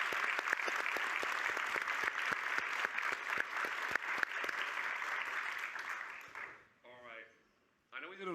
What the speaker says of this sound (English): An applause, but one more applause for Lolita Lopez from NBC4 LA, John Agwunobi